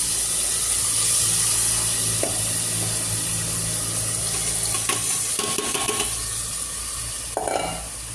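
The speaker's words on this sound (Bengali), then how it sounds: "মিষ্টি কুমড়া একটু ভাজি করি।" Sweet pumpkin fries in a pan with a steady, close sizzle. Occasional scrapes and clinks of stirring break through the sizzle, and no one speaks.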